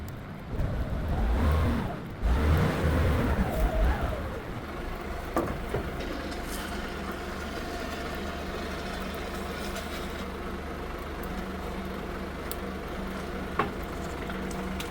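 Hydraulic cylinders extending on a budget rolloff truck converted from a rollback: a steady mechanical drone with engine hum and a faint whine, louder rumbling bursts at the start, then an even sustained tone without speech.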